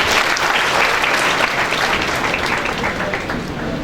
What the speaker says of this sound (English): Just great round of applause for her.